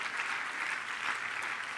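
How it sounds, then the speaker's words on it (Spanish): A church congregation gives steady, dense applause to Christ Jesus during a Sunday morning service, heard as a continuous wash of clapping at moderate distance. "Dele un fuerte aplauso a Cristo Jesús esta mañana"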